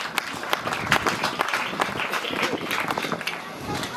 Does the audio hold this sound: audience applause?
yes